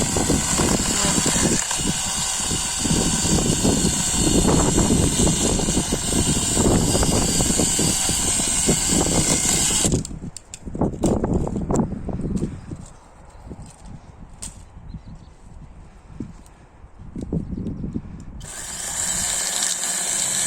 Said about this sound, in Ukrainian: зворотньо поступальні рухи пилкою збільшують швидкість різання в два рази